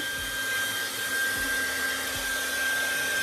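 A hair dryer blows steadily on the roots of hair, a constant close whirring hiss with a sustained high whine, with no speech.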